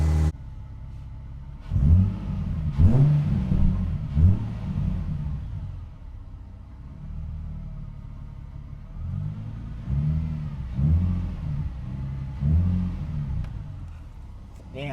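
Engine of a 2008 Nissan 350Z HR fitted with Z1 cold air intakes revs in several bursts, a deep rumbling swell rising and falling twice in a cluster, then again in a later run of pulses, heard from some distance.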